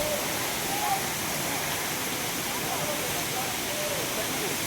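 A waterfall, Bheem Nala in North Sikkim, roars as a dense, steady broadband rush of falling water, loud and close, filling the whole stretch without pause.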